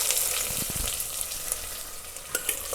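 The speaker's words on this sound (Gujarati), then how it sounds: "હવે કાંદા એડ કરીશું." Chopped onions hit hot oil with browned garlic in a pan, setting off a loud, steady sizzle with a few stirring scrapes.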